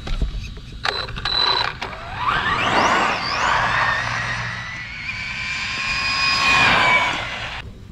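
An RC car running on a stock 8000 mAh 3S LiPo battery makes a speed run in track mode, its electric motor whine climbing sharply in pitch as it races past close by, then fading off into the distance.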